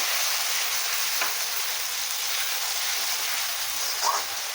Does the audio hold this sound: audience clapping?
no